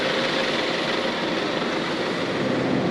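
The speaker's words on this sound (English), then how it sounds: "We're on our last train on our way to London" Inside a train bound for London, a steady broadband rumble and rushing hum continues without a break as the carriage travels along.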